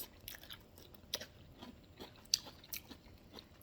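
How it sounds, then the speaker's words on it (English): Someone bites into and chews a crunchy, spicy vegetable medley close to the mic, making quiet wet crunches and sharper bites at an irregular pace, with no talking. "Let me taste the vegetable medley."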